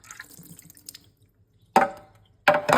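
A coffee machine part is emptied and rinsed at a kitchen sink, with soft splashes and dribbles early on, then two sharp bursts of water pouring or splashing close by.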